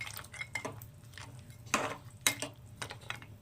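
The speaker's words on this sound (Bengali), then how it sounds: "এবার সবগুলোকে একটু ভালো করে মিশিয়ে নেব।" Fried bitter gourd, eggplant and lentil-paste bori are mixed together in a pan, with soft scraping and stirring strokes and a few sharper clinks of the utensil against the pan, close and quiet, with no talk.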